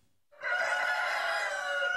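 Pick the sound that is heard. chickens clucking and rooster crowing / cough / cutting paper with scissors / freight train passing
chickens clucking and rooster crowing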